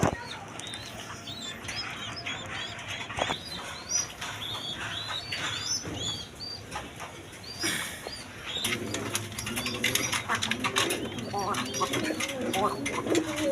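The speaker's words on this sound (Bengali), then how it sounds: "এখানে এক পেয়ার রেড কালার বোম্বাই কবুতর আছে" A pair of red Bombay pigeons coo in a loft, their soft calls and occasional wing flaps running steadily under someone speaking and background chirps from other birds.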